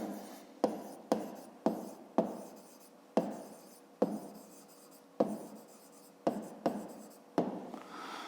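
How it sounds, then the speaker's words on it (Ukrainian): Pen or pencil writing out the answer to a school math problem, a series of about a dozen distinct scratchy strokes with short pauses between them, close and fairly quiet, with no talking. "Ну, а тепер записуємо відповідь. Пишемо відповідь."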